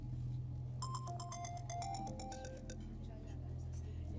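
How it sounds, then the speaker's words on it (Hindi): A phone ringtone plays a bright, repeating electronic melody of quick notes over a low background hum, ringing for several seconds before it stops. "तो फोन क्यों नहीं उठा रहे?"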